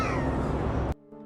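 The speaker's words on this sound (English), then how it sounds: "they hear a growling noise that sounds like a cat" A cat-like growl rings out at night on a trail camera, loud and close, holding steady for about a second before cutting off sharply into near silence.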